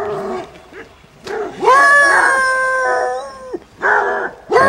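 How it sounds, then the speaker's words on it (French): Dogs bark and howl nearby in the countryside as a horse is ridden past, with drawn-out howls between short yips and bursts of barking. "On entend les chiens qui aboient."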